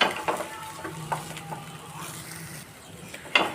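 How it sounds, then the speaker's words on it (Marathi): Chili and peanut masala being mixed into a pan of sweet potato bhaji, with soft scraping and stirring clicks over a faint sizzle, a few sharper spoon knocks near the end, no talking. "हा जो मसाला रेडी केलेला होता म्हणजे मिरच्या आणि शेंगदाणे ते यामध्ये ॲड करून घेऊयात आम्ही हे व्यवस्थित यामध्ये मिक्स करून घेणार आहोत"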